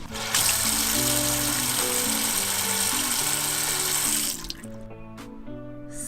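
Tap water runs steadily aboard a boat as the freshwater tanks and lines are flushed of antifreeze, a loud continuous splashing rush with music underneath that stops after about four seconds.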